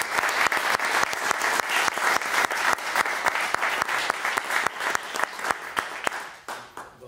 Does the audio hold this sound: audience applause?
yes